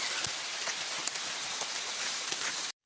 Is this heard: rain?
yes